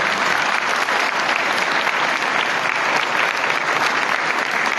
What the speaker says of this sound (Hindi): इनके लिए हम भरपूर ताली बजा कर उनका शुक्रिया अदा करते हैं